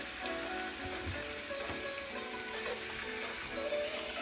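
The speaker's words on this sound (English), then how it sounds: "I'm just gonna put the pork chops right in" Pork chops sizzling with garlic in a pan on a small burner, a dense continuous frying hiss that stays steady and close for the whole stretch, with no voices.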